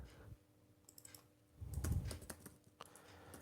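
Computer keyboard keys clicking in a short burst of typing while entering a word into an Excel error alert box, with a few scattered taps before and after the main cluster; no talking.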